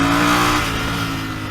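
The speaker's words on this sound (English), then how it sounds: "The torque is almost right there the moment you open the throttle." A Royal Enfield Interceptor 650 motorcycle on a road near Hyderabad, its engine revving loudly from around 3500 RPM as the throttle opens, then easing into a steady, slightly fading drone.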